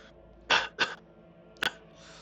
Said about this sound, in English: trying and failing to suppress a coughing fit